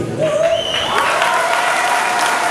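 Loud, dense applause from a large audience at a charity event in Algrange, France fills the space, with a gliding tone, like feedback or a whistle, sounding over the clapping.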